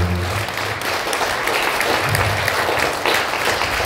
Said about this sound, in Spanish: Le damos un fuerte aplauso a nuestra Madre del Cielo, Nuestra Señora de Guadalupe